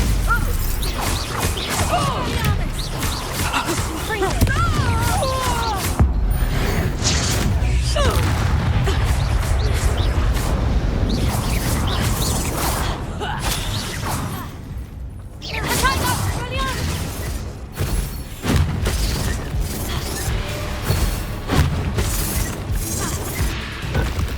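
Confringo blasting spell from Hogwarts Legacy bursts in a run of loud crashing booms and smashes, dense and continuous amid game music and voiced shouting throughout.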